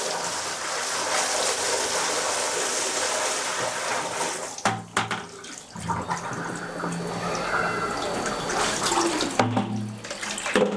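Water rushes and gurgles down a bathroom floor drain just cleared of a blockage with drain cleaner, loud and continuous with splashing bursts as more is poured in, then draining with softer sloshing.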